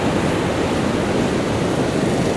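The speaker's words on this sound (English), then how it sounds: "the river's coming all the way down" A swollen river floods after heavy rain, its rushing water making a loud, constant roar close by with no pauses or voices.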